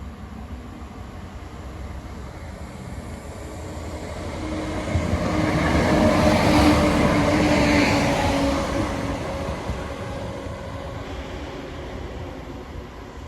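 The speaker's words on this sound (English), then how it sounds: "Class 170 turbo stars on a Cardiff to Nottingham service" A Class 170 Turbostar diesel train on a Cardiff to Nottingham service passes a foot crossing at Attenborough. A broad rumble builds steadily, peaks loud and close midway, then fades back to a steady background roar.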